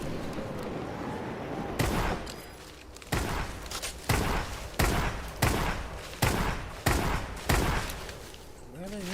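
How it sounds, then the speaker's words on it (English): Video-game gunfire rings out as a string of loud, evenly spaced single shots, roughly one per second, mixed with faint game background noise. "I hear the gunfire, but I don't see them."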